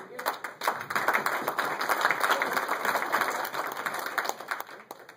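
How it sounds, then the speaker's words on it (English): An audience at an event applauds continuously for about five seconds, many hands clapping in a dense, lively patter that swells early and then holds steady. "Thank you for the applause for him."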